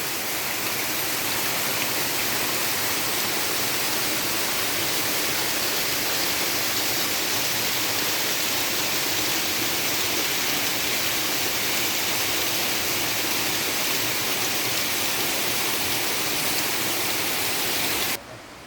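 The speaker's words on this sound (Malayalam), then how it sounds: "നമ്മുടെ സ്ഥലത്തിൽ തന്നെയുള്ള വെള്ളച്ചാട്ടമാണിതേ" A steady, dense rush of water from a small waterfall fills the whole clip at an even loudness, with no voices, until it cuts off at the end.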